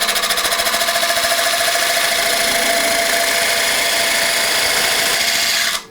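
A lathe takes a parting cut into a board being turned into a bowl, a loud, steady whirring and rasping drone that runs unbroken for several seconds before stopping abruptly.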